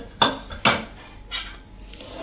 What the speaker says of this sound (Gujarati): તો આપણે કુકરનું ઢાંકણું ખોલી લઈએ અને મગને ચેક કરી લઈએ